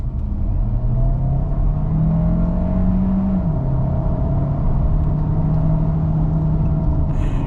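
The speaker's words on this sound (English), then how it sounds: "we'll get it to 25 miles an hour and floor the throttle, see how fast we can get up to speed" A 2025 Kia Sorento PHEV with a 1.6-liter turbocharged engine floored from 25 mph: a strong, rising engine drone swells, dips at one apparent shift midway, then climbs again, with no talking.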